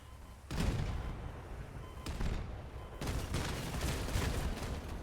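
Heavy cannon fire in the Crossout vehicle combat game: several loud booming shots at irregular intervals, each with a sharp onset and a rumbling tail, over a continuous din of battle.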